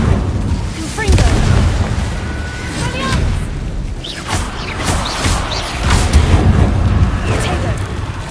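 Fiery Confringo spell blasts from Hogwarts Legacy boom and crackle repeatedly in a busy, loud mix of impacts with spoken voices underneath.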